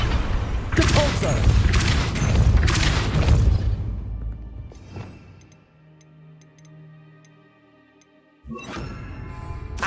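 Depulso spell cast in Hogwarts Legacy: bursts of whooshing, crackling magic with booming impacts, followed by quieter ticking mechanism sounds and a low hum, then another loud burst at the end, with a voice calling out over it.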